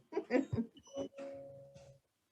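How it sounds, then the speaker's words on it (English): A doorbell chimes, a short ringing tone heard close to a quiet voice, fading out after about two seconds. "Obviously we have a doorbell ringer, so you just heard that."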